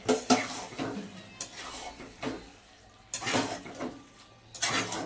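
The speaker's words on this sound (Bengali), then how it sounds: "দিয়ে এবার একটু হালকা নেড়ে আমি বন্ধ করে দেবো" Chilli chicken is stirred lightly in a pan, with a handful of metallic scrapes and clinks arriving in short bursts over a soft sizzle. A voice talks faintly in the background.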